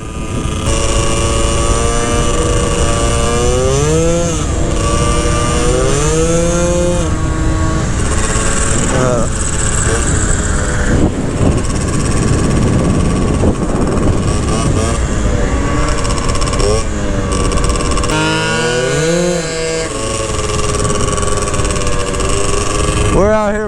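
A 120cc two-stroke Honda Elite scooter is ridden hard on the road, its engine screaming close and loud, pitch climbing and dropping repeatedly through revs with wind rush, continuous for the whole stretch.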